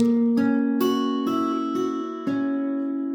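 A short passage from a Giuliani study on classical guitar: six plucked notes in a steady beat, each ringing clearly and sustaining into the next.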